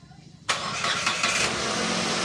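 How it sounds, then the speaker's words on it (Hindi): A Nissan Datsun redi-GO being repaired after a no-start fault cranks and fires up abruptly, then settles into a steady close engine roar. "गाड़ी को फाइनली एक बार स्टार्ट कीजिए"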